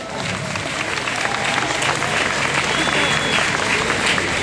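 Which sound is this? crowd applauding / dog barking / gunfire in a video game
crowd applauding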